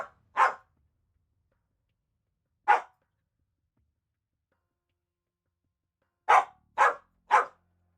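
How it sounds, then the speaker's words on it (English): A corgi barks five times, close and sharp: two early barks, one on its own, then three in quick succession, with silence in between. "I have a corgi barking at me."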